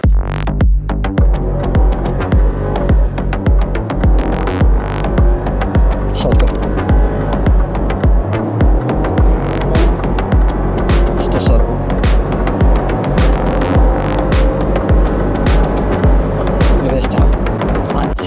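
A Range Rover L322 with the 5.0 engine accelerates hard in sport mode from a sandy spot, giving a loud, steady, throbbing roar that holds for the whole stretch without letup.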